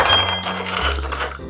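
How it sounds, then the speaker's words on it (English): Ice cubes drop into a glass for green mango juice, making a few quick, close clinks and knocks in a short burst. "I'm just going to put some ice into my glass now"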